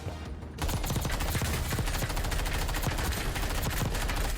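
Rapid automatic gunfire in the Call of Duty Warzone battle royale game, with fast loud bursts starting abruptly after a brief quiet moment and continuing densely to the end.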